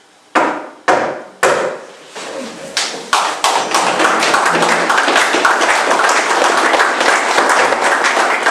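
At a lodge birthday program, a few loud, separate claps start off, then swell into steady, sustained audience applause that fills the room, close and without talk.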